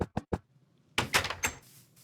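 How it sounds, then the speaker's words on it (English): A door in the Minecraft video game bangs shut: three quick wooden knocks, then a louder, rougher thud that trails off, close and clear with no talking. "shut the door behind you"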